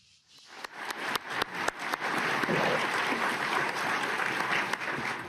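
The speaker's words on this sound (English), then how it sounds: "I think you could hear the applause all the way from Davos to the White House" Sustained audience applause in a conference hall at the World Economic Forum in Davos after a speech by the US president. Clapping builds quickly from quiet to a steady, dense roar of many hands and holds at a strong level throughout.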